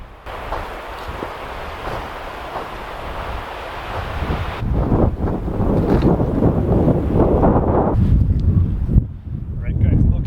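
Strong wind buffeting the microphone outdoors on an Oregon overland trail, loud rumbling gusts that swell and grow heavier partway through, briefly dropping near the end.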